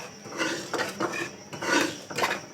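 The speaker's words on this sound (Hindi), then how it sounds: "हर दफ़ा दोबारा से भून रहे हैं असली घी में" A spoon scrapes and stirs sesame seeds, almonds and edible gum roasting in ghee in a pan, giving close, uneven rasping strokes in short bursts.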